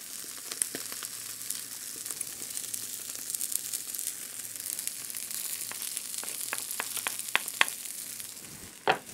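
Tomato paste and crushed garlic frying in a pan give a steady, soft sizzle, with scattered crackles and pops that grow busier toward the end, and a sharper clatter at the close.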